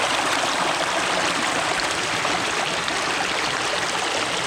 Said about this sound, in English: See the speed of water.